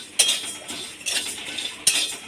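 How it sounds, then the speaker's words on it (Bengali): Mung dal dry-frying in a hot kadai, stirred with a metal spoon that gives three sharp scraping clinks against the pan, with softer rustling in between. "এবার আমি মুগ ডাল দিয়ে দেব, দিয়ে হালকা ভেজে নেব"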